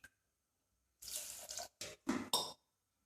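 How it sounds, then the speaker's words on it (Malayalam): Water from a glass pours into a pressure cooker with green gram and tomato, several short splashing gushes in quick succession, close and clear, separated by brief silences. "ഒരു ഗ്ലാസ് വെള്ളം ഒഴിച്ച് ഒരു 1/2 ഗ്ലാസും കൂടി നമുക്ക് ഒഴിച്ചു കൊടുക്കാം"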